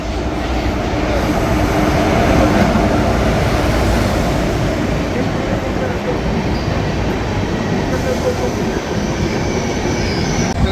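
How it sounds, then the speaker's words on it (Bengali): An intercity express train rumbles along loudly and steadily, a dense continuous roar of wheels and carriages with a faint high squeal, with no break throughout. "আমাদের ট্রেন চলে এসছে, ইন্টারসিটি এক্সপ্রেস"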